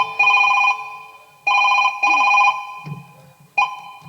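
A telephone rings on stage during a company drama performance, electronic ring bursts repeating in an uneven rhythm, clear and fairly close, with a brief low voice murmur between rings.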